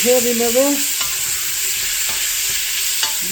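Beef browns in a pan under a loud, close, steady sizzle, with a few sharp spatula scrapes as it is stirred; a brief tonal whine sounds at the start, and no one speaks.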